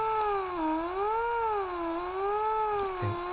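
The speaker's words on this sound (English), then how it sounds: "to modulate the combined sounds of these 4 oscillators" A steady synthesizer tone from four combined oscillators whose pitch wobbles slowly up and down in a smooth, repeating LFO sweep, alone and fairly quiet.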